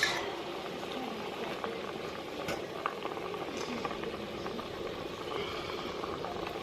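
Green bananas boil in a pot of water, a soft, steady bubbling with scattered faint pops, fairly quiet and close, with no one speaking.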